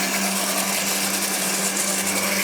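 A kitchen blender runs with its lid on, making a loud, steady whirring roar that holds without pause in a TV studio kitchen.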